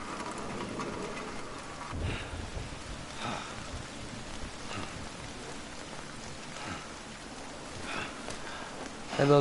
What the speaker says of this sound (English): what's happening right now is called Time Fall. It's a rain that makes everything age.